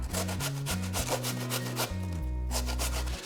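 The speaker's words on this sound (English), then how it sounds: "you can really use any type of cheese grater or a box grater. And just grate until they're all" Raw potatoes grated on a box grater for homemade tater tots give a quick run of rhythmic rasping strokes over steady background music.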